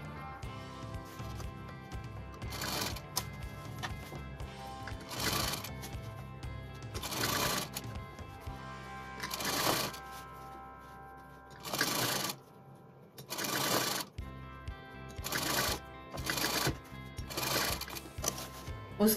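Sewing machine running in bursts while stitching an angrakha with lace, several short runs of rapid needle chatter separated by brief pauses, close and clear with no talking.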